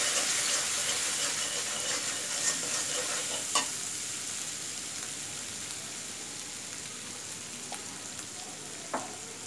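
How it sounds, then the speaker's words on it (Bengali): Spices with dried chilli and salt are stirred and sautéed in a pan for sweet-and-sour mango pickle, giving a soft continuous sizzle with a few spoon scrapes and taps, close and quiet, with no talk. "এখন এই সব কিছুকে একসাথে একটু কষাতে হবে"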